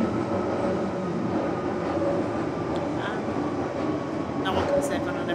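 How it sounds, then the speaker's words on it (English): London Underground tube train on the Waterloo and City line, a constant loud rumbling roar of wheels and motors inside the carriage with faint squeals and clicks. "It feels like a Central Line train, but it isn't"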